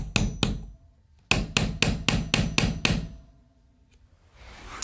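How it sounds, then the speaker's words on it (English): Hammer striking a nail set to drive a nail into wooden chair rail molding: two sharp knocks, a pause, then six evenly spaced close blows, followed by quiet. "Now I'm going to use this nail set to go ahead and finish putting this nail all the way in."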